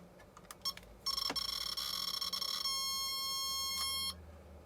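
Electronic beeping from a Soviet ELAT radiation alarm meter, a few short beeps and then a sustained high-pitched tone lasting several seconds before cutting off.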